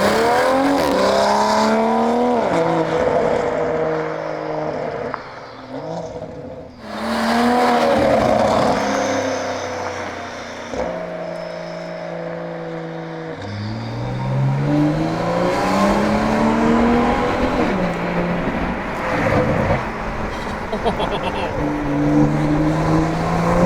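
A Toyota MK5 Supra fitted with catless downpipes makes a loud flyby, its engine note rising and falling as it passes close, with voices talking over parts of the pass.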